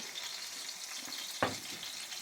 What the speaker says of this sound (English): As you can see, it is sizzling